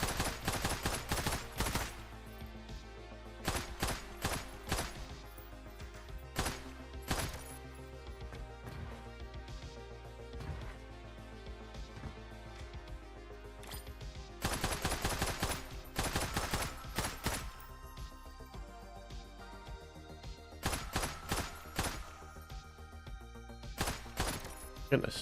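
Pistol gunfire in an in-development shooter game, with repeated sharp shots in bursts and rapid volleys throughout, loud over game sounds and music, with a person talking at times.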